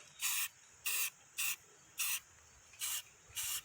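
A spray paint can hisses in six short, evenly spaced bursts while coating a camper's tongue, each on-off spray clear and close with quiet gaps between.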